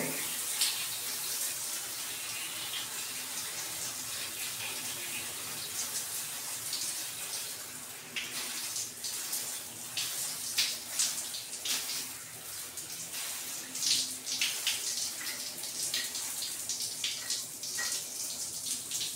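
Cold water runs steadily from a tap during hair washing, a soft continuous splash that turns more uneven and spattery partway through as the flow hits hair and hands.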